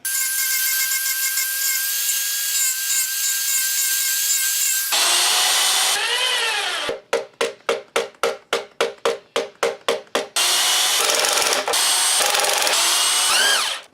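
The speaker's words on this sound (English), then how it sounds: "So this means I have to do some grinding to my perfectly nice finished pieces." A power tool grinds finished log bed frame pieces, first a steady high whine, then a louder rough grind, then a rapid series of short pulsed bursts before the continuous grinding resumes, close and loud.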